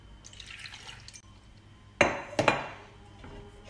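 Water is splashed into a cooking pot for a lamb tagine with mallow, making two quick close pours and splashes after a quiet stretch of faint kitchen noise.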